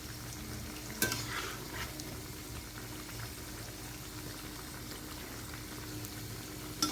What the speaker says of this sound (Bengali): ভাজা হয়ে যাচ্ছে